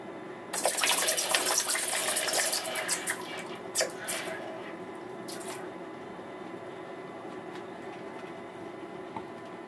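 Molten gold-jewellery metal poured from about a foot and a half into a bucket of water roughly 14 inches deep: a loud hissing, bubbling rush for a few seconds that fades to a steady low simmer.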